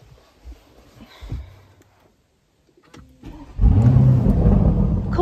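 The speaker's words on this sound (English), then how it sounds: "Of course, it sounds like a Lamborghini as well. It's got to sound like a Lamborghini" A 2024 Lamborghini Urus S with a 660 bhp V8 cranks after a few quiet handling noises, then fires up with a loud, deep roar and settles into a strong, close rev with no talking.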